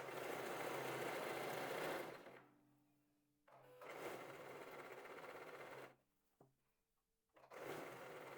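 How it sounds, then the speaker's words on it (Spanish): A sewing machine stitches lace trim onto lingerie in three steady whirring runs, with brief quiet pauses between them. "voy a ir cosiendo sobre el talón de la puntilla"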